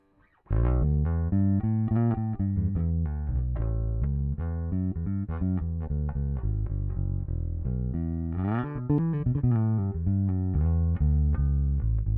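A Japanese lawsuit-era P-Bass, played through a Two Notes ReVolt Bass preamp pedal, plays a clean, round, melodic line up close, notes plucked steadily with a brief higher run near the end; no talking.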